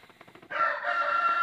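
A short burst of loud, close honking and cackling from farmyard geese and ducks breaks in after a few faint clucks.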